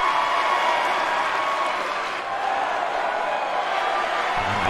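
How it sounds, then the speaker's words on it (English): Wrestling crowd at an E.F.W. event, roaring with steady applause and cheers in a dense, continuous wash of noise that dips slightly midway before swelling again. "I have no idea why the fans are cheering this monster."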